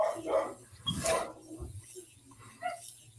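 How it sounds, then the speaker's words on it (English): A dog barks and yips in short, scattered bursts at moderate distance, fussy rather than aggressive, with faint background noise between the calls. "the dog is fussing at John Collins right now"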